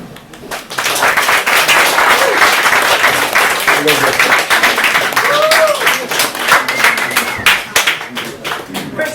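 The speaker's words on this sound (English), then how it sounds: "So let's give Kaya another round of applause." Audience applause at an open-mic poetry night following a poem, a dense, sustained burst of clapping lasting several seconds and slowly thinning out toward the end, with a few voices murmuring underneath.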